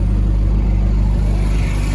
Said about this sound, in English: Let me see if I can get it started here.